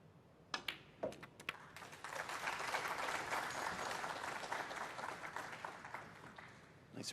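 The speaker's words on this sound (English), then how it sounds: "Nice appreciation from the crowd" Snooker crowd at the Xian Grand Prix applauds in a sustained, moderately distant wash of clapping that starts after a few sharp taps and holds steady to the end.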